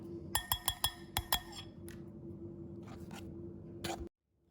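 Ice cubes and water in a glass, clinking in a quick run of six or so sharp close chinks, followed by a few softer knocks and a settling rattle before the sound cuts off.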